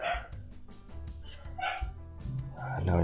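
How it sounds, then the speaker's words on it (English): A dog barks and yips in short bursts while being fed, the barks close and fairly loud, mixed with some indoor background noise. "Now he's barking because he's getting fed."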